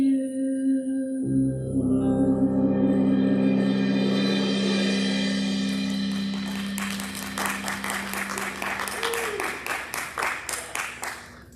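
Audience applause after a band's performance, swelling from a fading music chord into steady clapping and then thinning to a few scattered claps near the end.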